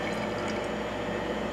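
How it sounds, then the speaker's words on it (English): Chlorophyll extract being poured into a glow stick mixture, a brief continuous liquid trickle and splash, close and moderately loud with no talking. "when I actually pour this in there"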